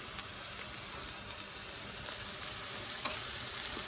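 Pork steak sizzles and fries in a pan with a steady hiss and occasional small pops, quiet and close.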